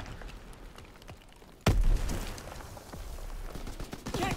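A single loud gunshot cracks out in a video game firefight, followed by lingering rumble and scattered distant shots over a noisy background.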